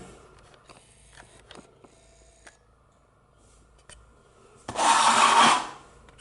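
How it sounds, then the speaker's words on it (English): A plastic model of Boba Fett's Slave 1 starship is scraped with a hand tool to weather it down to the grey plastic. Quiet handling clicks lead into one loud, close rasping scrape lasting about a second. "All I did was scrape it with this. Scrape, scrape, scrape, scrape, scrape, scrape, till I brought the plastic, grey plastic through again."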